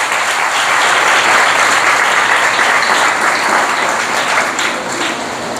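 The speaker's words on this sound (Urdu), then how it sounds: "آئیے برے کے لیے زور دار تالیاں بجاتے" Loud, sustained applause fills a church during a Sunday sermon, a dense wash of many hands clapping together that fades slightly toward the end, with no talking over it.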